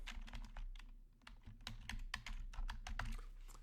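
Fast, steady clatter of computer keyboard keys close by, a quiet run of taps entering an email address into a form.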